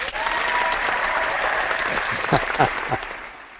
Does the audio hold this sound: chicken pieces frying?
no